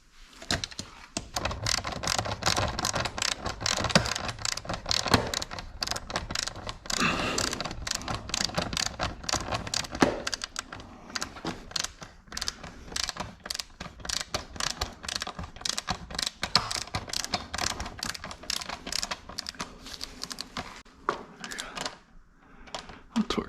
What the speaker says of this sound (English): I'll torque that to spec